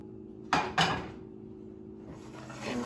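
Two quick clanks of a pan being swapped while sesame seeds roast, sharp metallic knocks close together, followed by a quiet hum and a soft sizzling rise.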